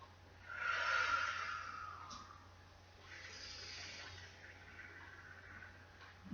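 A slow breath during a yoga exercise, airy and close, rising into a strong hiss, easing off, then a second softer exhale over a faint low hum.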